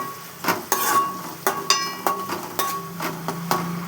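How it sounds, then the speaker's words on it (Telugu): Onions being fried in a pan for Telangana-style chicken and stirred with a utensil, giving repeated scraping, clinking strokes over a steady sizzle, close and clear with no talking. "ఉల్లిపాయ మంచిగా వేయాలి. వేగితేనే టేస్ట్ ఉంటుంది."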